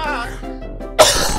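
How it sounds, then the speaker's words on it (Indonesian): A short burst of coughing, sharp and close, follows a moment of quiet voice at the start. "Batuk, guys. Batuk, Mister batuk."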